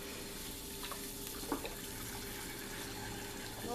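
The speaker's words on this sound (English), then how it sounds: "It's not the end of the siphoning." Homebrew beer being siphoned, heard as a constant soft gurgle of flowing liquid with a faint trickle, quiet and steady throughout.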